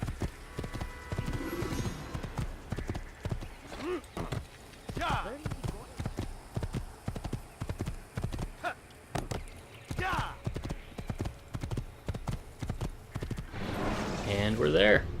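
In the video game Assassin's Creed, a horse gallops with rapid, rhythmic hoof clip-clops close by, joined by a few whinnies and snorts while a voice talks over it.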